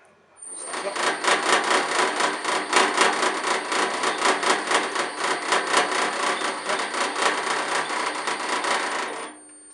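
A step drill bit bores a hole through plastic trim in a Picanto footwell, producing a steady, close, loud grinding chatter with a rapid rhythmic pulse for about nine seconds before it stops abruptly.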